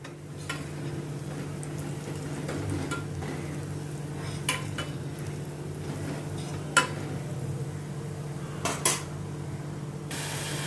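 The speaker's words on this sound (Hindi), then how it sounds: "इनको अभी मैं अच्छी तरह से अनियन के साथ मिक्स करती हूँ। थोड़ा भूनती हूँ जैसे सबका कच्चापन निकल जाए।" Onions with cumin and chili powder are stirred and sautéed in a pan, giving a steady soft sizzle with scattered sharp clicks and scrapes of a spoon against metal.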